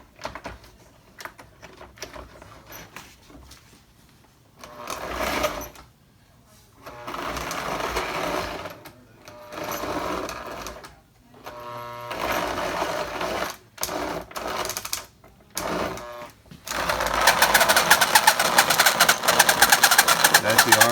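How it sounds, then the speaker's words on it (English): A Marx 1666 toy train motor runs noisily with a rough, whirring armature buzz that surges and cuts out in bursts, loud and close, with someone talking at times over it. "That's the armature making all that noise."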